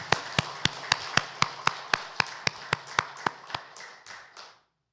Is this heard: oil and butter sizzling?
no